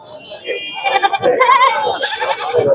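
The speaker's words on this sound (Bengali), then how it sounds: "এই পাশটা দিয়ে ছোট ছোট ছাগল রয়েছে অনেক আর কি" Goats bleat in wavering, nasal cries amid a busy crowd at a Bangladeshi livestock market before Qurbani, with people talking close by throughout.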